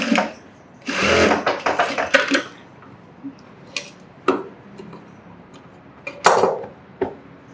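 Sewing machine stitching on children's clothing, short bursts of rapid mechanical whirring and clicking broken by pauses and scattered sharp taps, close and fairly loud.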